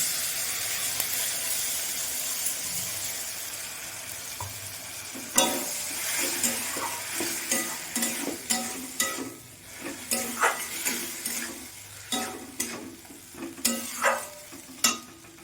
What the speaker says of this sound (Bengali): টমেটো অনেকটা নরম হয়ে গেছে, কষতে কষতে আরও নরম হয়ে যাবে, গলে যাবে।